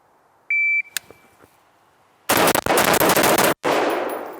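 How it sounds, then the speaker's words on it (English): A sharp electronic shot-timer beep, a short pause, then a fast burst of six loud AR rifle shots fired in quick succession, close to the microphone. "Should just 6 shots in the A zone, basically as fast as you can"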